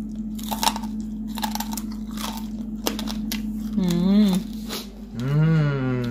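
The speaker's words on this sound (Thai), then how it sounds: "หนังกรอบนะคะ นี่นะคะเสียงกรอบขนาดนี้เลยนะคะ" Bites into crispy air-fried pork belly skin give sharp crunches, several in a row, loud and close, with someone talking and a low steady hum running beneath.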